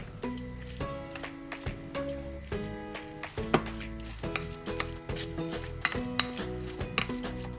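Chopped vegetables for a veg burger patty are mixed in a bowl, with a spoon repeatedly clinking and scraping against the bowl in an irregular rhythm, close up, over faint background music.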